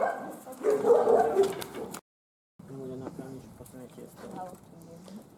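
Several dogs at an animal shelter in Becej bark and yip in bursts, loud and close, with a short silent break midway and yelping continuing afterward.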